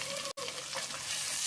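Chopped onion, green chilies, curry leaves and dal saute in hot oil for a fig sabji, giving a steady close sizzle and crackle with one brief dropout.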